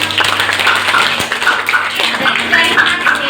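A classroom audience claps after a class presentation, a loose patter of hand claps from a small group, close and fairly steady, with some speech mixed in beneath.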